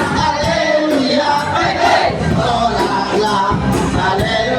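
A church congregation at a joint service of two churches with visitors shouts hallelujah together, a loud, dense crowd roar of voices rising in repeated waves throughout.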